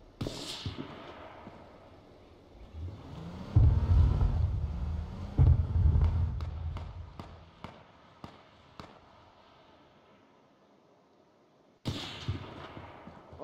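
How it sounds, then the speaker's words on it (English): Sniper rifle shots in the video game H1Z1, a series of sharp cracks spaced a second or so apart, with heavier thumps and rumble earlier and one louder crack near the end. "Oh, I can hear a sniper and it's scaring me."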